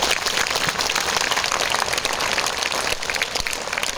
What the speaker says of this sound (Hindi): तो ताली बजाओ जोरदार